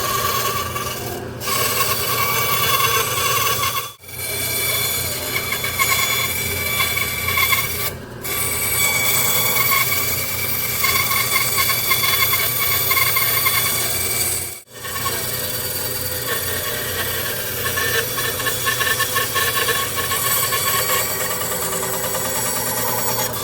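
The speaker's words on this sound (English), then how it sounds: "I'm just going to take a sander and sand the oval to the line to fine tune it" A sander grinds steadily against a wooden oval, shaping it to the line for a business card holder: a loud, continuous raspy whir broken by two brief pauses, no talking.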